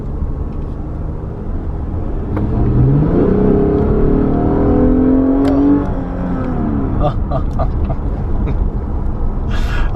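A 2015 Lexus sedan accelerates hard, its engine note climbing in a rising whine before easing off, heard from inside the cabin while a person talks excitedly over it.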